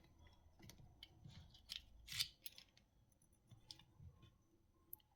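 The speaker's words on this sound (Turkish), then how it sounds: "Şu anahtarı şuradan çıkartıyorsunuz." The emergency key slides out of a Volkswagen Group smart key fob, as on a Skoda Superb or VW Passat, giving soft close-up plastic clicks and scrapes with one sharper metallic click midway, in an otherwise quiet room.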